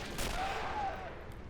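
A brief burst of gunfire in a World War One battle video game at the Tannenberg line: a sharp crack followed by a rolling, echoing report that fades within about a second.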